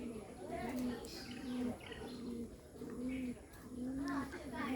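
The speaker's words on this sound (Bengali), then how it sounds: "এই যে একটা বোম্বাই, এটাও অনেক সুন্দর ডাকে" A Bombay pigeon coos in a steady series of low, rounded calls, evenly spaced and close, with faint background chatter and bird chirps.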